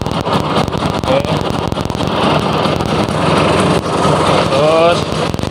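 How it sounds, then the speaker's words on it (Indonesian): A Vespa scooter engine idles and revs steadily close by, a continuous buzzing drone with a few rising pitch sweeps as the throttle is opened, while someone talks over it. "pastikan tidak ada suara berisik selain suara mesin atau suara knalpot"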